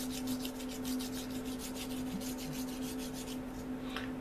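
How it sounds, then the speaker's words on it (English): A plastic model M41 Walker Bulldog tank is sanded with smooth, even strokes, a soft, faint, rhythmic rasping back and forth close up over a low steady hum. "And this stuff sands so beautifully"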